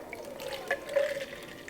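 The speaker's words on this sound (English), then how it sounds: "you are going to fill up the jar to the fill line with water" Water runs into a jar up to its fill line for a vehicle deodorization kit, a quiet trickling and splashing pour with a couple of small surges, heard alone.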